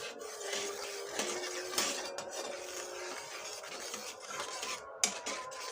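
Sugar stirred into tteokbokki sauce in a bowl, a steady scraping and clinking of utensil against the bowl with a few sharper taps, close and fairly quiet.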